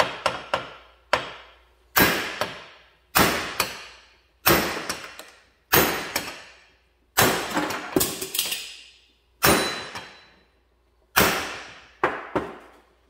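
Hammer striking a manual impact driver on a screw: about a dozen sharp metallic blows in an uneven rhythm, each ringing briefly before fading, close and alone.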